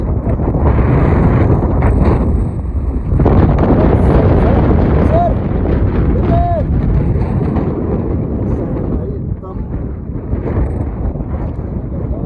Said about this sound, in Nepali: एकदम हावा चलेको छ।